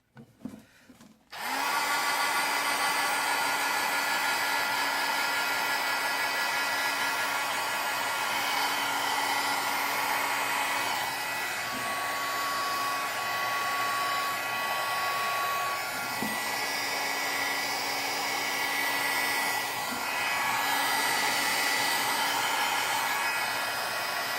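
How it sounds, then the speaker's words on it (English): A heat gun blowing hot air onto paint switches on after a brief click and runs loud and steady for over twenty seconds, a constant whooshing fan roar with a motor hum and slight dips as it is moved. "then I've got a heat gun"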